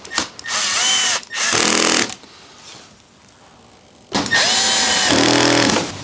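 A power driver runs T25 Torx screws into the body panels of a BMW R1250GSA motorcycle during reassembly, with three loud, close whirring bursts: two short ones, a quiet pause, then a longer final run.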